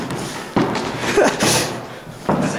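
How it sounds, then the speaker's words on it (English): A huge old door slams shut with heavy thuds and a booming knock, followed by a couple of further bumps and rattles nearby, loud and close with faint voices around. "That's a huge door, dude. These are big ass doors."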